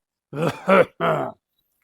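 A voice imitates a cough and throat clearing in three short, gruff bursts, close and loud, followed by silence.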